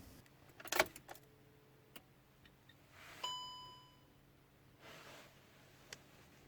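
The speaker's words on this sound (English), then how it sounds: "First, we have to turn on the ignition." Volkswagen ignition switched on inside the car: keys jangle, then a single soft electronic dashboard chime rings out in a quiet cabin, followed by faint clicks.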